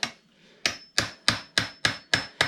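A wrench taps the cap of a water filter housing in a series of seven sharp, evenly spaced knocks, close and clear with no talking.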